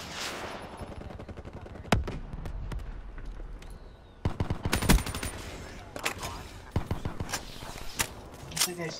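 Gunfire in a first-person shooter match: several sharp, close shots and short bursts with gaps between them, mixed with fainter distant pops and footsteps.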